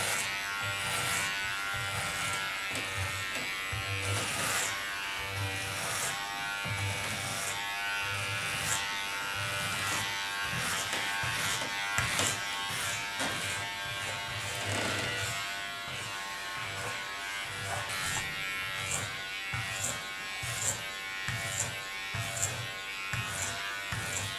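Electric hair clippers buzz continuously and loudly at close range as they cut a plastic doll's hair into a short pixie, with a steady motor drone and rhythmic changes in tone as the blades pass through.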